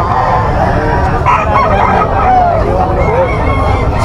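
A young gamecock (stag) crows at a gamefowl sale, its call rising briefly out of a dense, steady din of crowd noise and other birds, fairly faint against the busy background.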